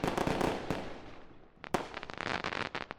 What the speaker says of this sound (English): Rather just be comfy inside and just watch fireworks.